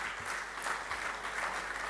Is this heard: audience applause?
yes